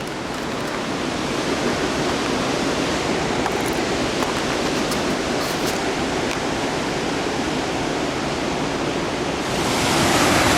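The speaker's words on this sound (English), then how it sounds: "going down the Manitou River Trail to the falls. I'm sure you can hear them by now, they're pretty close" The Manitou River waterfall roars close by along a forest trail in a state park, a loud, unbroken rush of falling water that swells a little louder near the end.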